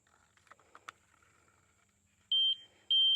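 A metal detector held near metal embedded in a utility pole gives a few sharp, loud electronic beeps near the end, following some faint soft clicks and handling noise.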